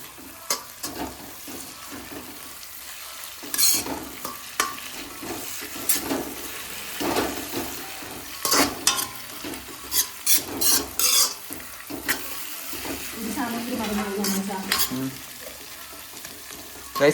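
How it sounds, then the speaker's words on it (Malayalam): Chicken curry being sautéed and stirred in a pan, with a steady sizzle and repeated scraping strokes of a spoon, some louder clanks, close and without talk. "പിന്നെ നമ്മളിതിങ്ങനെ വഴറ്റിക്കൊണ്ടിരിക്കണം"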